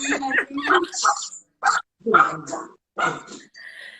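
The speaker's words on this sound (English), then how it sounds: "my little pup is in the background" A teacup Yorkie puppy barks and whimpers in short, sharp yips mixed with talking, close and loud in the background of a conversation.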